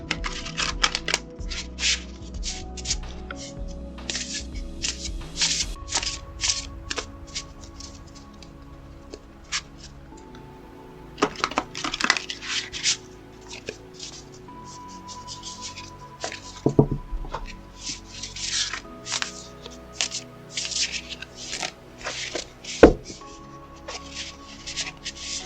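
A Shaman's Dream Oracle card deck is shuffled, close, rapid clicking and flicking of cards in uneven bursts with soft tapping and a faint background hum, continuing for over twenty seconds.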